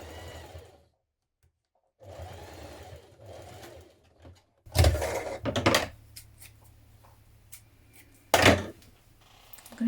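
A sewing machine stitches a blouse facing onto a tab in short, close runs separated by pauses, ending with a few quick, louder bursts of needle clatter and handling clicks.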